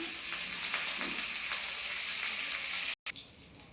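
Cinnamon, cloves, cardamom and curry leaves sizzle in hot oil for paneer kalia with a loud, continuous hiss that cuts out briefly, then resumes more quietly.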